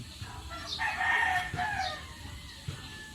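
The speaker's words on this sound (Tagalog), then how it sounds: "Medyo maingay ang mga manok sa kabila." A rooster crows once at moderate distance, stretched and wavering, with soft clucking and scattered farmyard noise around it.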